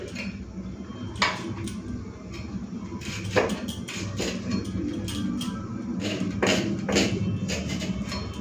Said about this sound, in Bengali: তো পেঁয়াজটা আমি বটিতে করেই কেটে নিচ্ছি।